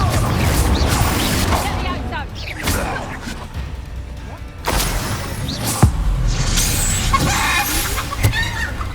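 A Confringo blasting spell explodes amid continuous combat noise in Hogwarts Legacy, with crashes, impacts and a character's voice shouting over the dense, loud game action.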